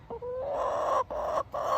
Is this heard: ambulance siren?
no